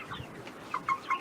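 Chickens cluck in short, fairly close bursts toward the end, the calls rising over a low background murmur with no clear speech.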